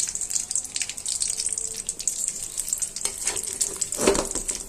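Bata fish fry in a pan with a continuous bright crackling sizzle, close and steady throughout, with a few sharper spatters toward the end.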